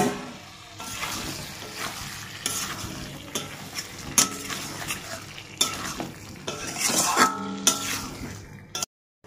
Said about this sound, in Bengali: এরপরে আমি এখানে সেদ্ধ আলুগুলো ঢেলে দেবো, দিয়ে ভালো করে কষিয়ে নেব।